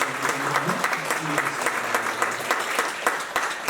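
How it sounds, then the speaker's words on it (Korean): A church congregation applauds to welcome newcomers, a dense, loud burst of clapping filling the room for a few seconds, with some faint voices mixed in beneath. "박수로 환영하겠습니다."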